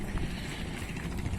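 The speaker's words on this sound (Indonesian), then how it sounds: "berangin, cuaca nggak kondusif ya." Wind blowing at a seaside fishing spot, a continuous broadband rush with gusty buffeting close to the microphone, and no voices.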